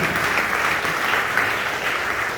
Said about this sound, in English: How about a big round of applause for your high school tonight?